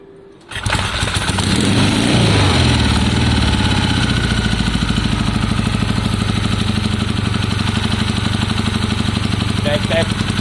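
A 1973 Triumph Bonneville motorcycle engine with Amal carburettors starts and runs close by, settling into a steady, loud, even idle with a pulsing low thrum throughout.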